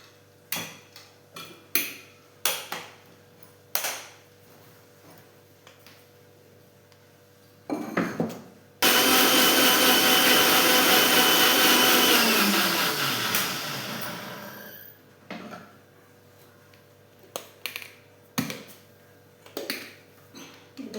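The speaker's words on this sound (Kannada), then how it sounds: "ಇದನ್ನಷ್ಟೇ ಮಿಕ್ಸಿಗೆ ಹಾಕ್ತಾಯಿದ್ದೀನಿ." A mixer grinder blends orange segments into a smooth pulp in one loud sustained burst of several seconds that winds down gradually, set among sparse clicks and clatter of kitchen handling.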